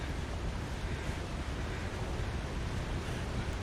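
Steady broadband rush of a waterfall in The Long Dark, a continuous wash of falling water filling the scene with no pauses and no voices.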